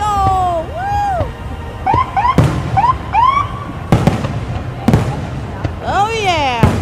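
A 4th of July fireworks show goes off with several sharp, loud bangs spaced a second or so apart, mixed with rising and falling whistles and excited voices nearby.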